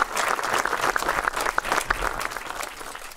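Applause from a crowd at an exhibition hall dedication honouring Ed Charles, with individual claps audible in a lively burst that thins out toward the end.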